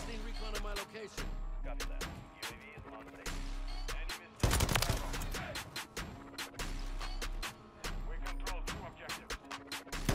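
Sakin MG38 machine gun firing in Modern Warfare 3 multiplayer, long rapid bursts of loud automatic fire broken by short pauses, with a heavy explosion-like blast midway and clattering shots continuing after.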